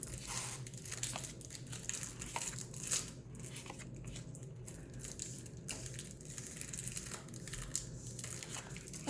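Foil wrappers of Magic the Gathering booster packs crinkle and tear close by, a busy run of crackling and ripping that goes on without pause.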